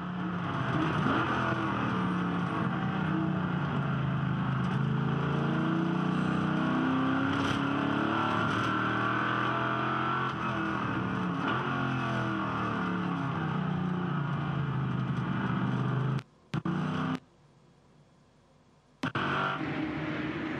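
Loud, continuous roar of a V8 Ute racing engine from inside the car at Hidden Valley, rising and falling through gear changes, cutting out abruptly twice near the end.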